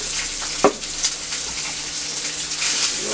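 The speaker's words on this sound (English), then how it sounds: "Go ahead and flip this bacon over. Get some crispy bacon going here." Bacon sizzling steadily on a hot griddle beside burgers, a bright continuous crackle with a brief clatter as it is flipped, no talking.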